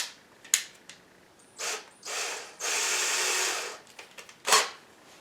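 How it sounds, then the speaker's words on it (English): A small bit in a power drill cuts into a kitchen cabinet for hardware, a brief whirring buzz that rises to a steady whine for about a second, surrounded by a few short clicks and taps nearby. "Make sure you have it on there and just drill very easily."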